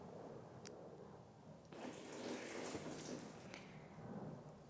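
Water pours and runs down fabric treated with Turtle Wax fabric protector, a faint soft splashing gush that swells partway through and trickles on, close and quiet with no talking.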